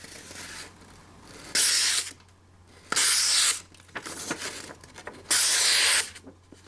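Three bursts of crisp, hissing sound as a folding knife slices paper, each lasting about a second, separated by quieter pauses with faint rustling.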